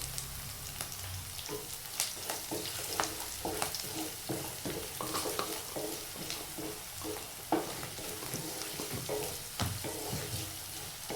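Bitter gourd with ginger paste and turmeric sizzles steadily in a frying pan, with repeated scraping and stirring strokes throughout and no voices.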